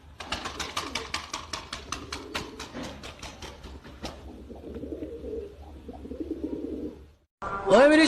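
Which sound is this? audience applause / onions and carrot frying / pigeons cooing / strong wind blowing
pigeons cooing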